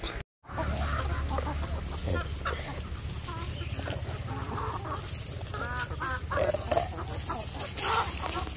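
Chickens cluck steadily at a poultry farm, many birds close by over a low background hum, with a voice speaking at times.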